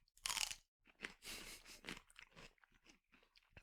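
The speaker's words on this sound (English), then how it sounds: "And a loud ass celery crunch." Someone bites into juicy celery, with one sharp, loud crunch up front followed by several softer chewing crunches, close to the microphone and without speech.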